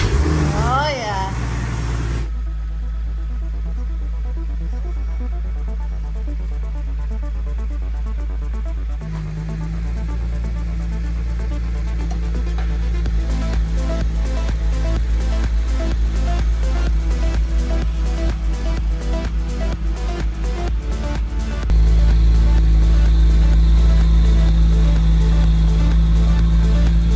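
A modified Porsche 911 engine runs steadily at a low, loud rumble for the whole stretch, rising to a heavier drone near the end as the car sets off, with voices talking over it.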